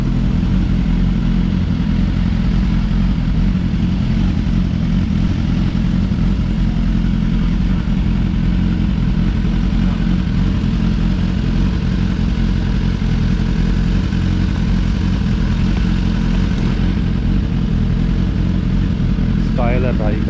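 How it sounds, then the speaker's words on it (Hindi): Heavy, idling traffic in Shoreditch, London, with motorcycle and car engines rumbling steadily nearby and occasional revs, while people talk over the noise. "ट्रैफिक बहुत है ना, इसीलिए अभी रुके हुए हैं।"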